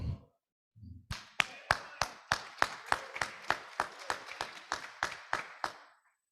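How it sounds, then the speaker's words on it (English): Sparse clapping at a weekly Rotary Club hybrid meeting: about sixteen separate, evenly spaced claps, close and moderately loud, following a brief low murmur, with nothing else heard. "Single hand clapping."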